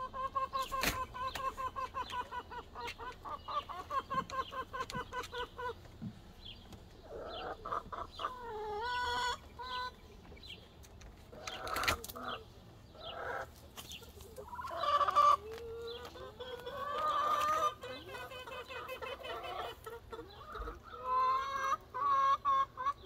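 Brown chickens clucking near a house in the middle of a forest, continuous overlapping clucks and cackles with a rooster-like crow mixed in, close and busy throughout.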